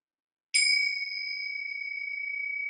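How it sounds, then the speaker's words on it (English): One clear bell ding marks the end of a meditation minute, ringing out alone in silence and sustaining as a long, steady, bright tone. "When you hear the bell again, you'll know that the minute is over."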